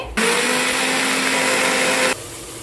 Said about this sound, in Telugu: అల్లం వెల్లుల్లి మిక్సీ పట్టేసుకుందాము